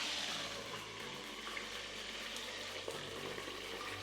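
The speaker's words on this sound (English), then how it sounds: "it's frying and steaming at the same time" Fish sizzles and crackles steadily in a hot frying pan, Jamaican style, a continuous close hiss with scattered pops and spits and no talking.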